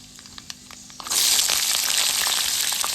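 Onion pieces drop into hot oil for Karachi nooka upma, setting off a sudden loud, steady sizzle after a second of quieter crackle, with no talking.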